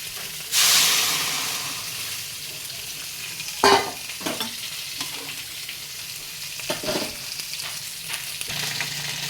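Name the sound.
fish frying in a pan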